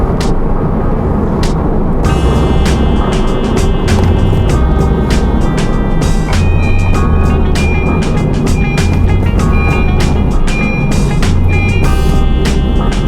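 A Honda Jazz fitted with a Vaitrix throttle controller accelerates in sport mode, a steady engine drone with rising tones and periodic gear-shift breaks, heard loud from inside the cabin.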